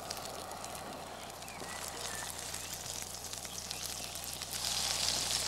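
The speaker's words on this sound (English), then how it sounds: "My pike perch goes into my frying pan with the skin side down." Pike perch fillet sizzling skin side down in a frying pan, a steady close crackle and hiss that grows slightly louder toward the end, with no talking.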